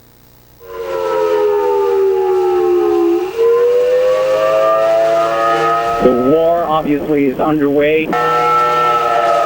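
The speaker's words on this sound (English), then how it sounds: "behind me now you hear the air sirens going off once again" Air raid sirens wail loudly and continuously, rising and holding in a steady drone, while someone speaks briefly over them partway through.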